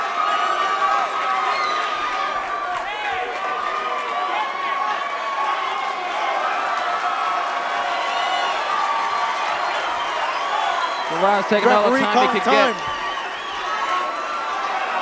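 A boxing crowd cheering and roaring steadily as a fighter goes down, with a ringside commentator talking over the noise and a brief burst of louder shouts near the end.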